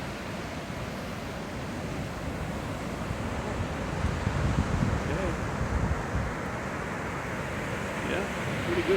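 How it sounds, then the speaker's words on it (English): Big ocean surf breaking along the beach at Destin under strong wind, a continuous low rumbling wash with gusty microphone buffeting, a swell of heavier breaking midway, and no clear talk. "we got some pretty pretty big waves breaking out there"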